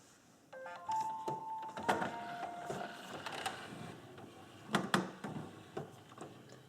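An HP 4650 inkjet printer powers on with a rising electronic whir, then clicks, clunks and mechanical ticking as its parts move and settle, fairly quiet and nearby.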